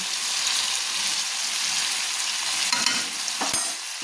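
Hatchery chicken curry with yogurt sizzles steadily in a pan while being stirred, with a few soft scrapes and a louder clack near the end, close and without speech.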